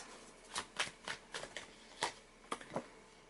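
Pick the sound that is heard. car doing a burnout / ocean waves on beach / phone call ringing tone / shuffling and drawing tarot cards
shuffling and drawing tarot cards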